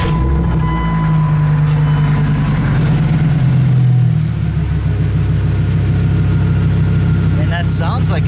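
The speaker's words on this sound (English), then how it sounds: "Lovely V10 sound." A V10 car engine idles after an exhaust repair, a steady close rumble that dips slightly in pitch midway, with brief faint noises near the end.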